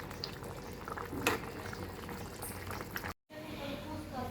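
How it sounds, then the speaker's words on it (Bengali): Curry of tengra fish with vegetable stalks and potato cooking in a pot, a steady bubbling simmer running underneath a voice, broken by a brief cut near the end. "আজকে ট্যাংরা মাছ দিয়ে ডাটা আর আলু দিয়ে রান্না করা হচ্ছে"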